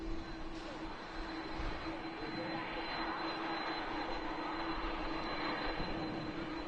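Airliner arriving at Manchester Airport on approach to runway 23 right, a distant, steady engine roar with a sustained whine that swells and lingers outdoors.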